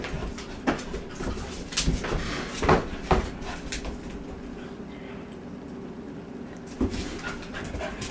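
Two border collies playing indoors, with panting, scuffling and occasional sharp bumps and thuds, fairly close, over a continuous low background.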